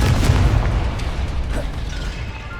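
A Confringo explosive spell blast in the Hogwarts Legacy video game, a deep rumbling boom with crackling bursts that rolls on steadily for a couple of seconds, close and fairly loud.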